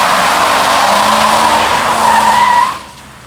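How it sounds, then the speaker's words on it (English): A Dodge Dakota R/T with a 5.3 swap and brand new tires roars through a burnout, the engine loud and the tires squealing steadily for about two and a half seconds before the noise drops away. "Does that do a burnout? Brand new tires."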